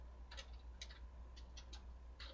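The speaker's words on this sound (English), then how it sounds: "So now I can type in hump" Short bursts of keystrokes tap on a computer keyboard, four or five quick clusters of clicks spaced irregularly over a faint steady room hum, with no voices.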